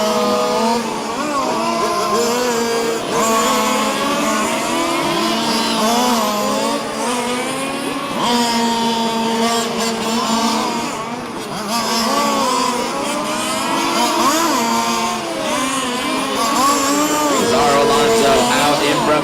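Race cars lapping a racetrack in the final minute of a race, their engines a continuous loud drone that rises and falls in pitch as they accelerate and back off, with a voice faintly audible underneath.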